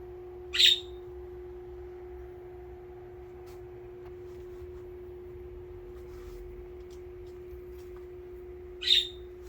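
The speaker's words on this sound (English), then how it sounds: "It's my parakeet chirping." A pet parakeet gives two short, high chirps, one near the start and one near the end, separated by a long quiet stretch over a steady low electrical hum indoors.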